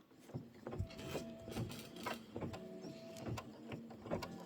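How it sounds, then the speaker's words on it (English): An embroidery machine stitches a quilt block with a steady, rapid mechanical patter and regular tonal whirring, moderately quiet and close, running continuously without talk. "I'm going to let it do its stitching"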